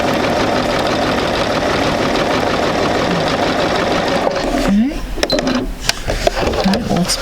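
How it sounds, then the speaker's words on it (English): A sewing machine runs steadily, stitching fabric with a fast, even mechanical chatter, then stops and gives way to a few softer handling clicks and rustles. "stitch a couple stitches just so the needle goes off of the fabric"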